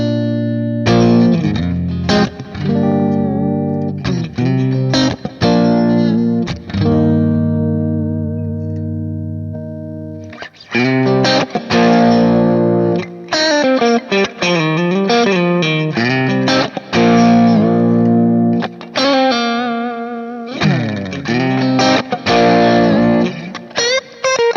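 An electric guitar runs through a 68 Purple Plexi amp with the gain turned up, giving a loud, distorted crunch as chords and single-note riffs are played in bursts, with a short pause near the middle.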